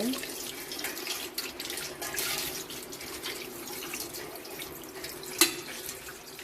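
Water runs steadily from a tap as pooja vessels are washed one by one, a continuous close splashing hiss with small clinks and one sharp knock near the end.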